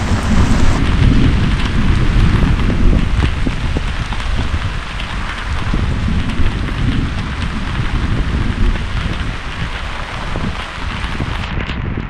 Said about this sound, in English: we're introduced to our first of many nights of squalls and rain